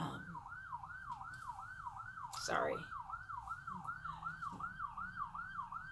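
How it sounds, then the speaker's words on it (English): An ambulance siren downtown wails in a steady rising-and-falling cycle at moderate distance, with a brief spoken word and a short clatter midway. "That's an ambulance."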